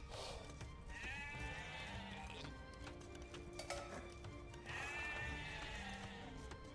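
Sheep bleating in the Age of Empires 2 strategy game, two clear bleats separated by a few seconds, heard over game sounds and hoof clops while a voice talks throughout.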